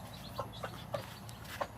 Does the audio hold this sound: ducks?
yes